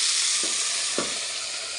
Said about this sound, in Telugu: ఇలాగ తాలింపు తీసుకొచ్చేసి ఇందులో వేసేసుకుంటున్నాను